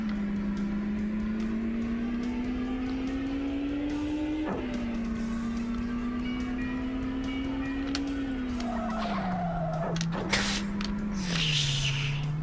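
Car in the Sega Saturn game Initial D: Koudou Saisoku Densetsu, its steady synthesized engine drone rising and dropping through gear shifts, with tire squeal bursts near the end of a drift attempt.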